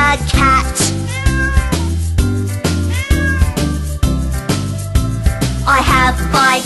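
A cat meows repeatedly over a bouncy children's song with steady bass and backing music, the meows rising clearly above the accompaniment.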